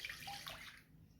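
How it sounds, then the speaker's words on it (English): Milk poured into a large bowl for bread dough, a soft, steady splashing stream lasting about a second, faint and close. "In a large bowl, pour in your milk."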